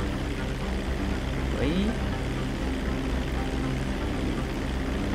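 An airplane in Grand Theft Auto 5 drones with a steady, dense engine roar throughout, and a voice speaks briefly over it.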